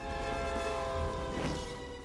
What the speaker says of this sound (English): I like that honk that came out